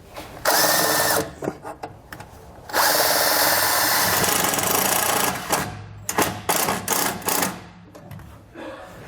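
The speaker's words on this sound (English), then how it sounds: "We'll go ahead and start our self-tapper and try to get it as high up in the frame as I can." A power drill drives a self-tapping screw into the frame of a 2018 Chevrolet during a tow wiring install. Loud, close whirring bursts are separated by short pauses and end in a string of brief, stuttering pulses.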